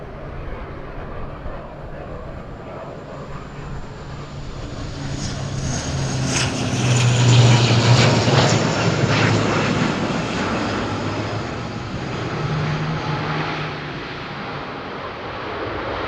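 A Binter airliner landing at Madeira Island Airport, its engine roar rising from a distant hum to a loud broad rush, then easing off into a lingering rumble.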